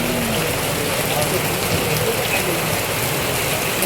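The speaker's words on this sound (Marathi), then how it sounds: "जोरातच पाऊस पडला आहे" Heavy rain pours down in a dense, steady hiss that fills the whole stretch, close and loud, with faint mechanical clicks underneath.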